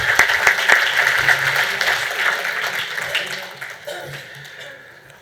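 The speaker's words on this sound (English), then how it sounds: "How about another round of applause for Danny Britt?" Audience applause at a community fundraiser event fills a hall, dense clapping strong at first then gradually thinning and fading over about five seconds, with a few voices mixed in.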